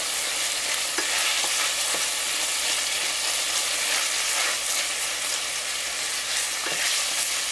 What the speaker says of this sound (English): And you stir that all in.